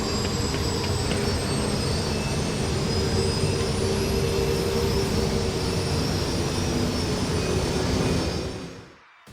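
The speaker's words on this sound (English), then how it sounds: "The X-Wing sounds more like a jet than the pod racer does." A Star Wars X-Wing starfighter sound effect roars like a jet engine, a loud, steady, broad whoosh with a high whine that carries on without a break before fading out at the end.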